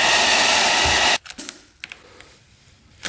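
Heat gun blowing hot air onto a peeling wrap: a loud, steady broadband whoosh for about a second, then it cuts off, leaving faint handling clicks and rustles.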